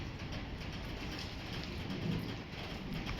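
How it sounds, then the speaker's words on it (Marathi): A low, steady thunder rumble rolls under a clear sky through a quiet outdoor Konkan village scene, faint and distant, with no speech. "गडगडत आहे आकाश एकदम मोकळ आहे तरी पण गडगडत आहे"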